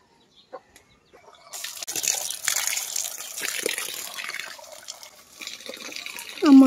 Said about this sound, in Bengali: আমার হচ্ছে চাল ধোয়া শেষ